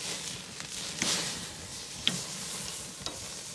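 A prime ribeye cap steak cooked sous vide sizzles steadily in a hot pan as it is flipped with long tongs, with a few light clicks of the tongs over the constant frying hiss.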